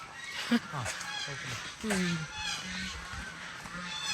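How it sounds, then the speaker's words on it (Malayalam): Farm fowl, including chickens and ducks, call out several times at a farm house in Nelliyampathy, with honking, squawking cries rising over a constant hissing background. "അകത്തുള്ള ആടിന്റെയും പശുവിന്റെയും കോഴിയുടെയും താറാവിൻ്റെയൊക്കെ ശബ്ദം ഇങ്ങനെ"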